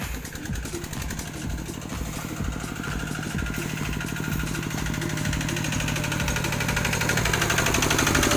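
A truck creeps along slowly in second gear while hauling a homemade Thai farm tractor. The engine gives a steady, rough, low drone that swells gradually louder, with no voices over it.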